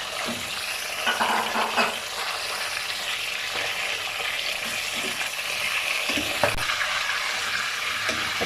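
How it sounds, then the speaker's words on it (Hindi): Mutton sizzles steadily as it fries in hot oil in a pan for korma, with stirring scrapes and a few louder clinks; continuous close frying, no talking. "अब इसी ऑयल में तकरीबन 2 मिनट के लिए मटन को फ्राई करेंगे।"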